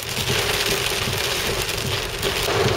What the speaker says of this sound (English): Wow, it's really coming down.